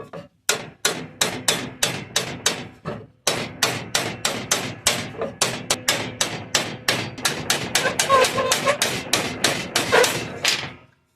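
A length of 2x4 lumber tapping a metal pulsejet tube round, dozens of close, sharp knocks in a steady even rhythm with one brief pause, each with a short ringing metallic decay, no talking.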